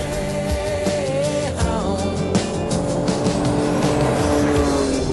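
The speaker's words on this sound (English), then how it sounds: "Ferrari doesn't seem to be worrying at all about these ruts." A Ferrari drives over a rutted washboard road, its engine note rising and falling with rattling and tire noise, loud and close throughout with no voices.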